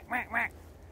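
An American black duck gives two quick, loud nasal quacks close by, followed by quiet outdoor background.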